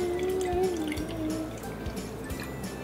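Water trickles and drips into a small test tube, with a faint ringing tone rising as it fills, close and fairly quiet.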